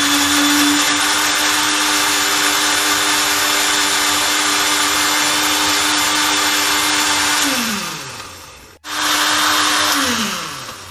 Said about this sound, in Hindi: हम इसको इस तरह से इसका जूस निकाल रहे हैं हम स्ट्रॉबेरी का